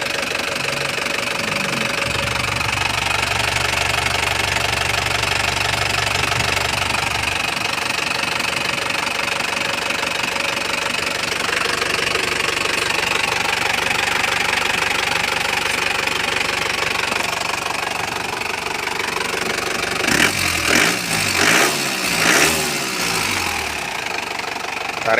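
A 2007 Isuzu Panther LM Smart Turbo diesel engine idling, a loud, steady close-up knocking rumble with an even rhythm that holds throughout, with some rattling handling noise near the end.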